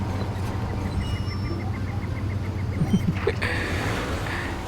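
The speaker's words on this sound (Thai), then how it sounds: "นี่เสียงรถ" A steady low engine hum from a car in Far Cry 2 runs throughout, with a few brief clunks and a hiss near the end.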